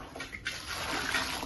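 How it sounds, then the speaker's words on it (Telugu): Cold water is poured over cooked rice in a short, steady splashing gush that starts softly and swells slightly, close by and alone. "ఇప్పుడు దీనిపైన చల్లటి వాటర్ పోసేయాలి"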